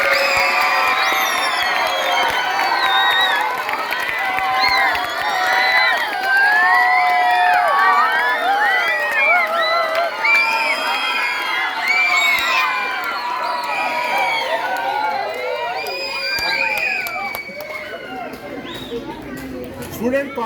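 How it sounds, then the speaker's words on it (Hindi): Boys at a government elementary school in Bihari Colony, Rahim Yar Khan, clap and cheer during a student council election day, a dense crowd of shouts, whoops and chatter sustained loudly throughout. "तालियां बजा"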